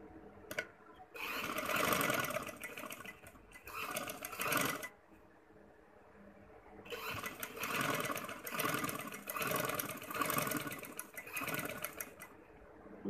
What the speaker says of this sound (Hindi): हम इसके सेंटर में सिलाई लगा रहे हैं।